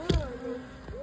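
Honeybees buzz around an active hive being opened for a first check, a steady close insect drone with a louder passing swell near the start and another brief rise just before the end.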